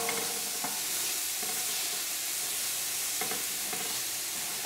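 Finely diced white onion sweats in a pan with a steady, close sizzle, broken by a few brief stirring scrapes; no one speaks.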